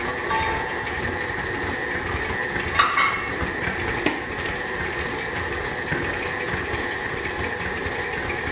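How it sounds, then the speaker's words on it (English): An electric mixer creaming sugar, brown sugar and butter, a steady mechanical whir and hum held throughout with a couple of faint knocks from the bowl, no talking. "turn the mixer up a little bit so we really get that sugar and brown sugar and butter creamed together"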